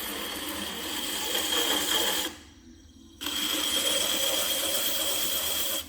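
A pottery pot gets sanded with a steady, hissing abrasive scrub that stops for about a second and then starts again, close and moderately loud.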